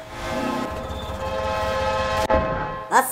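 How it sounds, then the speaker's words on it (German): An approaching train in Half-Life 2 on Xbox 360 rumbles with a steady sustained horn-like tone for over two seconds, then cuts off abruptly, followed by a brief bright screech, loud and close with no talk. "Oh Gott, ein Zug kommt. Ich höre einen Zug."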